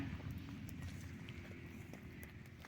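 Steady, fairly loud clopping of horse hooves on hard ground, an irregular walking rhythm that continues without pause and no talk over it.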